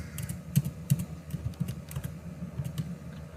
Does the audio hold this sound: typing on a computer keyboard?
yes